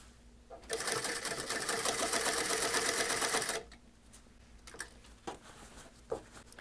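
Sewing machine running steadily for about three seconds while stitching the hem of a pair of jeans at roughly eight stitches per inch, a fast even whir followed by quieter handling clicks.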